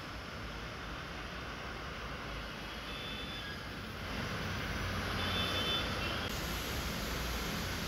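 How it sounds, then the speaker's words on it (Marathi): Dense traffic noise on Ghodbunder Road in Thane during a heavy jam with trucks and other heavy vehicles, a steady broadband roar of engines and tyres that swells slightly louder halfway through, with faint beeps. "ठाणे घोडबंदर रस्त्यावर प्रचंड वाहतूक कोंडी झाली आहे"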